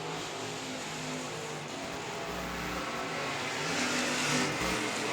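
Race cars lap South Texas Speedway on the final lap as a steady, dense engine roar. The roar swells slightly as the cars come closer and never drops away.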